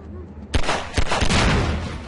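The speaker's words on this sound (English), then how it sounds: "Lots of explosions from above." Explosions from the video game Half-Life 2 erupt suddenly as a loud, dense burst of crackling blasts, with two or three heavy thumps packed into about a second and a half.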